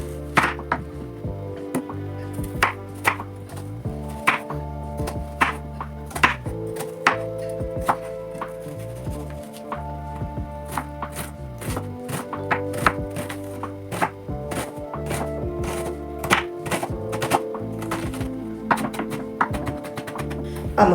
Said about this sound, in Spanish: Cebolla limpia y la vamos a picar